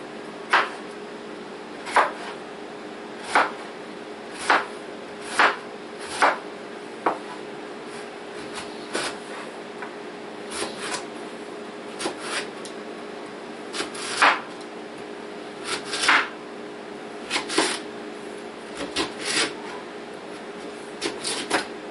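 A knife chopping ingredients for a crust filling on a cutting board, with sharp, evenly spaced taps repeating steadily and fairly close, with no talking.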